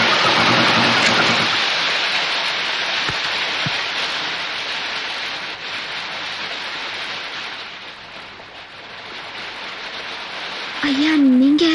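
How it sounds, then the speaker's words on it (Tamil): Steady rain pouring at midday in a Tamil film scene, a dense, loud hiss that runs the whole time and swells again near the end, where a brief tonal sound rises over it. "அதான் இந்த மத்தியான நேரத்துல மழை பெய்யுது."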